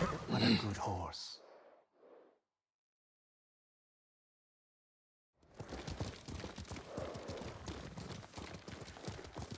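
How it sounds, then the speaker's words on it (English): Horse hooves clopping at a steady walking pace in the video game Ghost of Tsushima, fairly close, with a brief lull of silence before the rhythmic steps resume and continue. "What a good horse."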